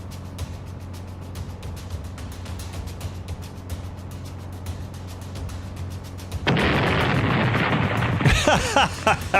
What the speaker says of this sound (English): Grandpa coming in with explosion and bomb sounds